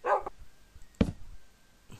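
A dog in the video game Minecraft gives a few short barks and yips, one near the start and a louder one midway, with a faint one at the end and quiet gaps between.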